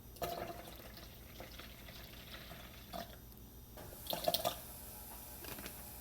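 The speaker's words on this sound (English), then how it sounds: "I always put in 6 ounces of prune juice" Prune juice trickles into a blender container while blended tube food is being made, a faint, close liquid pouring with small splashes and a slightly louder gush near the end.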